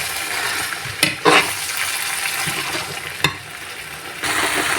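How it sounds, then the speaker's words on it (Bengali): Spices and prawn masala sauté in a hot pan for a prawn bhuna with coconut paste: a steady close sizzle broken by a few sharp spatula knocks and scrapes. "এগুলো দিয়ে আমি 2-3 মিনিট কষিয়ে নেব।"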